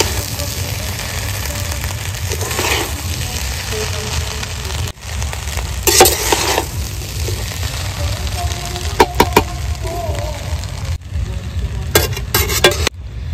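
Fried rice being stir-fried in a pan with fried vegetables and salt, a steady sizzle broken by repeated scraping and clinking of a spatula against the pan.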